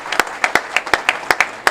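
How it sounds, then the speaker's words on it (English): An audience at a road development announcement claps for the mayor and team, a quick scatter of sharp, close individual claps over a brief stretch, with no talking. "Another round of applause for Mayor Irvin and the team and all the developers."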